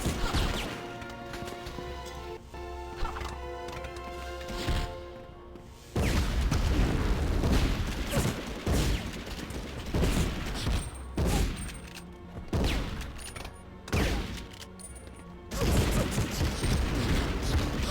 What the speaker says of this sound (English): you're getting the good sound effect in terms of the sound of the guns